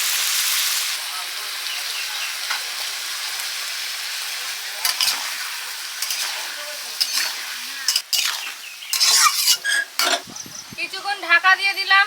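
Spices with turmeric, chilli powder, cumin powder, salt and onion-garlic paste fry in a pan for a light snakehead fish curry with green banana. A steady loud sizzle runs throughout, with spoon scrapes and clatter toward the end and voices underneath.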